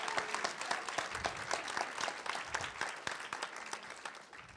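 An audience at a university panel on anti-Black violence and democracy claps warmly to welcome a speaker, with steady dense applause throughout and no talking.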